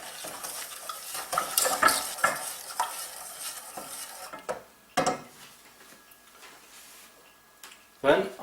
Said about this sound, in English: so I'm going to stir that in